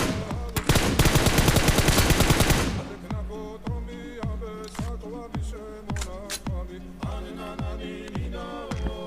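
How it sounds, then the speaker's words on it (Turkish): Gunfire rings out in a firefight in the mobile game PUBG Mobile. A dense burst of rapid automatic fire runs for a couple of seconds, then gives way to a string of separate, evenly spaced loud shots. "Aşağıda çatışma var."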